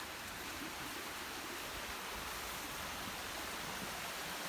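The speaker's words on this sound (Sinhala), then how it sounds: "පහලින් ගඟකුත් ගලාගෙන යනවා." A river flows below the trail at Demodara Ella, a steady, broadband rush of water that fills the whole stretch without pause and with no voices over it.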